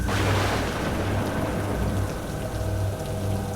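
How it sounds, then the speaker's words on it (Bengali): Heavy rain in a Bengali ghost cartoon pours down steadily and loudly, a dense continuous hiss of drops on surfaces with no voices over it. "এই প্রবল বৃষ্টির কারণে সামনের গাছপালাগুলো পর্যন্ত ভালো করে"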